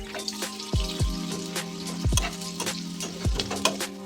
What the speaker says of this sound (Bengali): আমি একটুখানি পেঁয়াজটাকে ভেজে নেব।